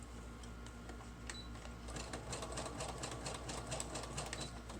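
Sewing machine stitching cheesecloth onto junk journal paper, a steady mechanical whir with fine rapid needle ticks running continuously and close at low volume throughout.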